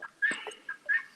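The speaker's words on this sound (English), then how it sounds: "Is that the chickens again?" Chickens cluck in a few short, sharp bursts, fairly faint and nearby, with quiet gaps between the calls.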